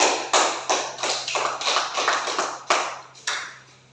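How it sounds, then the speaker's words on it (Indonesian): A few people in a classroom clapping for a student group, sparse and uneven separate claps that thin out and stop, with a low hum underneath. "tepuk tangan untuk kelompok 1"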